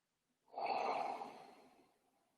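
A single soft, close breath taken during a guided meditation, rising quickly and trailing off over about a second and a half in otherwise quiet surroundings.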